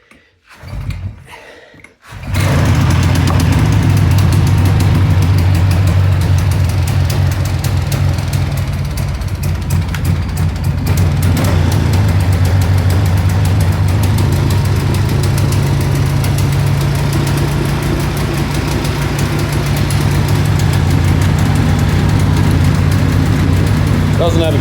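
A Honda CR500 dirt bike engine fires up after a few brief attempts and keeps running loudly up close, a steady rough two-stroke drone with no battery fitted, while someone talks over it.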